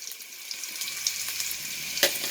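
Onion fries in hot oil with spluttered fenugreek seeds, a short burst of close, even sizzling with small crackles and one louder pop near the end, no voices.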